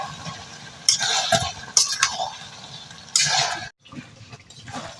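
Potatoes being stir-fried together with a big fish head and spices for North Bengal aloo ghati: three bursts of scraping and clinking from a spatula in the pan, with a quieter background hum between them and no talk.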